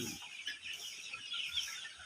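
Young Sonali chickens, around 20 days old, clucking faintly on a farm, soft scattered chirpy calls over a quiet background.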